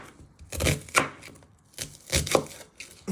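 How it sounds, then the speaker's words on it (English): A knife chopping through an onion on a cutting board for wild rice soup: a few crisp, close cuts in quick irregular strokes, heard alone. "You want to turn it around and you just want to chop it"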